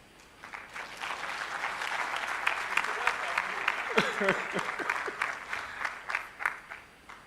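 Applause swells from a conference audience after a keynote address, dense clapping that rises then thins into scattered claps, with a voice speaking briefly partway through.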